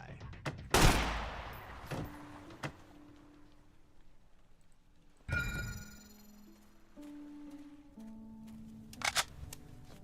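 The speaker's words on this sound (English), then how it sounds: "Where are you firing at, my guy?" Gunfire in the game Sunkenland: a loud nearby blast early on, a second burst mid-way and a few sharp later shots, separated by quieter stretches with tonal game sounds.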